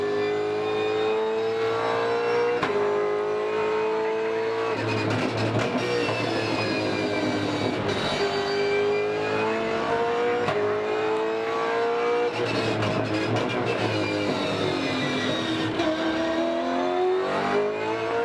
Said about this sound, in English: check out a ride around the circuit of the Americas